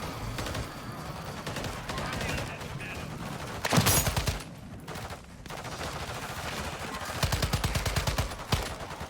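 Rapid automatic gunfire in the Modern Warfare 3 Zombies video game, dense bursts of shots running nearly throughout with brief pauses, loud and close.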